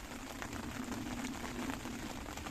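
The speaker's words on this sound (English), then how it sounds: "it started raining" Rain falling on a low riverbank in the Fenland, a soft continuous patter and hiss heard close by, quiet and steady with no voices.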